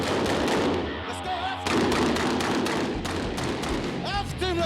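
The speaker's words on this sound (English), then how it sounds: "After each vehicle fires, it pulls back and another rolls into position" Military vehicles firing weapons at a desert training ground, with dense, rapid bursts of gunfire and heavy thuds that carry on almost without a break, loud and reverberant, mixed with other voices and clatter.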